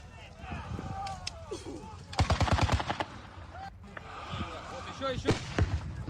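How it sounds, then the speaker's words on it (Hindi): Heavy gunfire during Russian attacks in the war in Ukraine: a rapid burst of loud shots and scattered thuds, with voices in the background. "पीछे रूसी सेना भीषण गोलीबारी कर रही है।"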